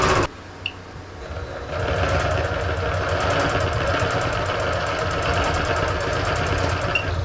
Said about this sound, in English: I'm going to do a locking stitch just so that it holds it.